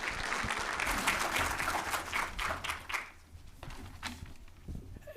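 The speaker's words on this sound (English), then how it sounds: "Yeah, give him a round of applause." An audience at a Voice to Parliament forum applauds David Smith as he is invited to the stage. The clapping is moderately loud and thins out toward the end, with faint voices underneath.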